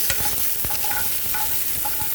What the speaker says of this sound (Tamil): இந்த பொரியல் செய்கிறதுக்கு கொஞ்சமாக எண்ணெய் விட்டுட்டு அதில் ஜீரகத்தூள் அப்புறம் கடுகு போட்டு தாளிச்சிக்கோங்க